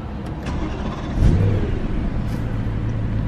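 A BMW M3 E93 V8 engine cranks and fires at about 1.2 seconds, then settles into a steady, deep idle. A low hum runs underneath throughout, close and fairly loud, with no talking.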